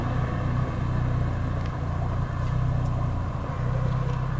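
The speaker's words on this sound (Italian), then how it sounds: "sento una macchina" A car drives along a road in the Lessinia hills, a low steady engine rumble with tyre noise that stays fairly faint and constant, without talk.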